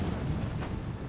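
An infantry volley in the strategy game Empire: Total War, heard as a dense, continuous rumble of massed musket fire with no single distinct shot.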